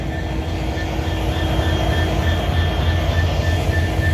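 A train rumbles steadily nearby at Benapole railway station, a continuous low mechanical drone with faint high whining tones, no voices.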